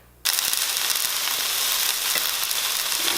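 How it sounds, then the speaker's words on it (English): Pork tenderloin slices cut about an inch thick drop into hot oil and sear with a loud, steady broadband sizzle that starts abruptly and holds without talk. "So now it's time to warm up our oil and sear both sides."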